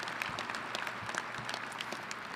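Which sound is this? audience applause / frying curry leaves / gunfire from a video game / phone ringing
audience applause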